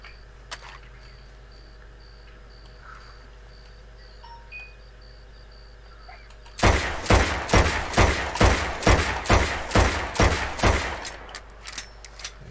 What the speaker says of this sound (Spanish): igual voy a hacer un par de disparos además